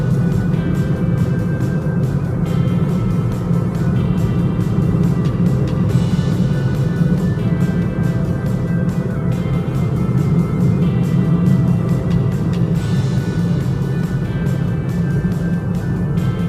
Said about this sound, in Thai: รถก่อนจะเยอะนิดนึงครับ รถมอเตอร์ไซค์ก็เยอะครับ ขับระวังหน่อยน